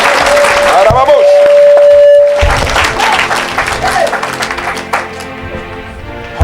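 A church congregation at a French-language evangelistic service applauds and cheers loudly in a dense wash of clapping and crowd noise, with a preacher's amplified voice speaking over it.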